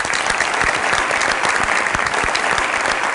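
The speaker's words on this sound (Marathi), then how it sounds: "जोरदार टाळ्या त्यांच्या, जोरदार." An audience at a Satyamev Jayate Water Cup competition event claps hard and steadily, a dense, loud burst of applause that fills the whole moment without any voices over it.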